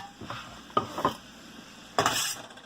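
Pieces of food stirred in butter in a hot skillet give a soft background sizzle broken by three scraping, clattering utensil strokes against the pan, close and moderately loud.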